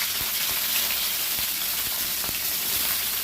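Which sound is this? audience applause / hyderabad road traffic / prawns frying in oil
prawns frying in oil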